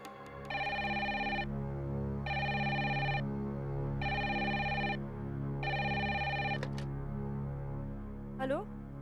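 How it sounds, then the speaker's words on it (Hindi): A telephone ringing in a home, four evenly spaced electronic ring bursts repeating in a steady pattern, with indoor background sound between them. "घंटी जा रही है।"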